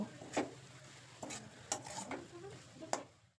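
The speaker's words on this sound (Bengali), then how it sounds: "এখন এই নারকলটা এক থেকে দেড় মিনিট একটু ভালো করে নেড়ে নিয়ে" Grated coconut for nolen gur dudh puli filling is stirred in a pan, with several distinct scraping strokes spaced over a few seconds against a faint steady sizzle, fairly quiet and with no voices.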